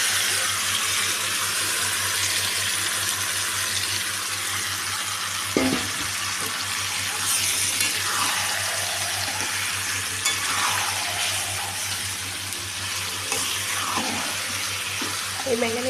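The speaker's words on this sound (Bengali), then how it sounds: "এবার আমি এর মধ্যে দিয়ে দেবো ম্যারিনেট করে রাখা মাংসটাকে।" Marinated chicken frying with onion, capsicum and tomato in a pan, a steady sizzle with occasional stirring scrapes and clacks throughout.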